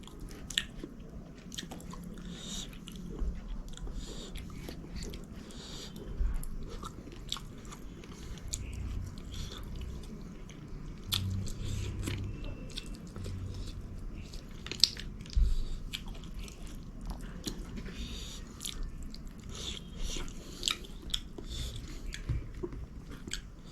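Close, quiet chewing and biting while eating fish with sticky rice prepared Dimasa style, a continuous soft mastication with occasional small crunches and wet squishes.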